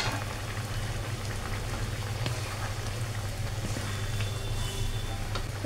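Fish curry bubbles in a covered pan, a dense, even simmering rumble close by with a soft patter, steady throughout and free of voices.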